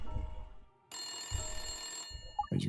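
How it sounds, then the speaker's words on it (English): A telephone rings in the video game Layton Brothers: Mystery Room, a sustained electronic ring that holds steady for about a second, then cuts off, with low background music around it. "Oh, the phone."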